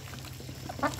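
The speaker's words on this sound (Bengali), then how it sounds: "দেখেন দর্শক, হাঁসগুলোকে খাইতে দিলাম" Ducks feeding on rice mixed with bran give one short, loud quack near the end, over a low steady hum and soft background noise.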